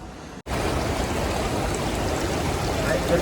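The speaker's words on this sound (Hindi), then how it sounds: "ठंडा ठंडा पानी आ रहा है, ग्लेशियर का मजा आने वाला है।" Cold glacier-fed stream water rushing steadily in Ladakh's Turtuk village, a loud, continuous close-up flow after a brief dip at the start, with no talking.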